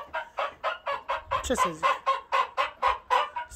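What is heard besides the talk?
rooster clucking in a pigeon aviary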